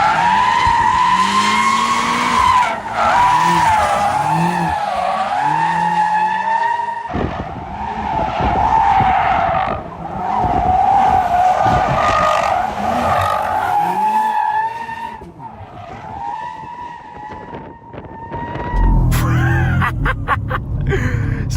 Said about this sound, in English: let's pull up some drift clips really quick.